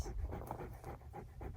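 A neighbor's dog, found tangled near an electric fence, pants close by in quick, steady rhythmic breaths with no talking over it.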